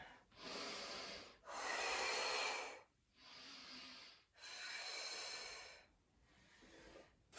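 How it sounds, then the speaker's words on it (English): Steady in-and-out breathing during a mums' fitness workout, with loud, forceful breaths in long rhythmic bursts, several exhales and inhales close to the mic, separated by brief pauses. "Breathing in, breathing out to draw the tummy in."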